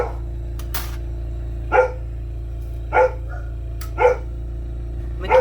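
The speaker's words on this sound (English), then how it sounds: "there's never a video where they don't bark" A deep-voiced dog barks in a lampworking glass bead studio, with five short single barks spaced about a second apart over a steady low hum.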